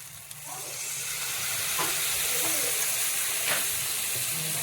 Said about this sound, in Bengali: এরপর এই বেটে রাখা মশলার মধ্যে কিছুটা জল মিশিয়ে গুলে দিয়ে দেব